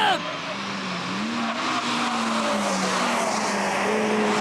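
Japanese sports race cars, including Supra, NSX, Civic R, MR-S and S2000 on the SUGO circuit, brake hard into a corner with loud engine downshifts and tire squeal, close and continuous under excited commentary.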